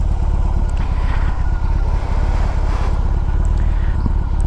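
A 2021 BMW R18 motorcycle idles steadily nearby, its deep, lumpy engine throb running continuously and loud throughout with a faint clatter on top and no talking.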